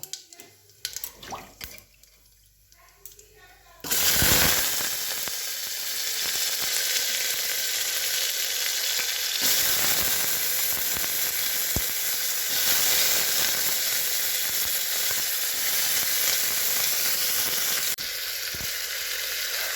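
Potatoes and soybean chunks tossed into hot oil with bay leaf in a pan, a loud sudden burst of sizzling that settles into a steady close crackle for the rest, without speech.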